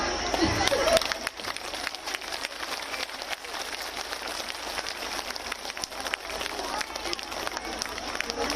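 A large crowd at a women's mass gathering in Karauli, Rajasthan breaks into loud, sustained applause, a dense wash of clapping that continues steadily after a brief voice at the start.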